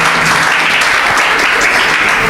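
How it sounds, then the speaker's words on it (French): A church congregation claps for Jesus during a Sunday service, with dense, loud, sustained applause from many hands filling the room without pause. "clap for Jesus"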